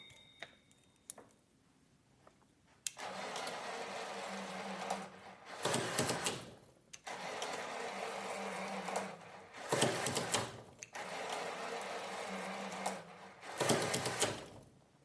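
A motor drives a linear slide carrying a 2 kg load, whirring in four separate bursts of a few seconds each with short quiet gaps between them. The sound is faint and mechanical, with a few small clicks before it starts.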